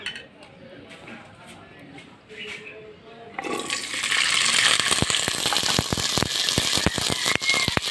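Yardlong beans are dropped into hot oil in a wok, and after a quiet start with a voice, a loud, bright sizzle bursts up and continues, punctuated by sharp clicks and clatters from stirring.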